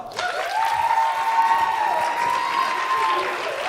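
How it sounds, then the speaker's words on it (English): Audience applause for the Laugh2Death improv troupe at a solo comedy show, steady clapping filling the room for nearly four seconds with a faint whoop or cheer riding over it. "Give them a round of applause."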